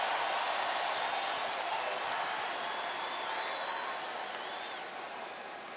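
A football stadium crowd at Texas A&M versus New Mexico in 2017 roars steadily as a reserve quarterback takes the field, a broad, dense wash of cheering that slowly fades, with faint whistles inside the noise.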